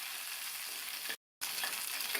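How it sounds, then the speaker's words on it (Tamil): Small onions (shallots) and ginger sauté for chutney in a pan, giving a steady bright sizzle broken by a brief moment of silence before the frying hiss resumes. "வெங்காயத்தை 1 நிமிஷம் வதக்கினா போதும்."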